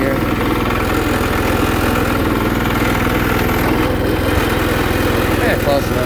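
A 1979 Case 224 hydrostatic riding lawnmower engine running steadily close by, a loud continuous low throbbing drone with a constant pulse and no break.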